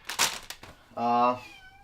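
A house cat gives one clear, drawn-out meow near the end, preceded by a person's brief talking.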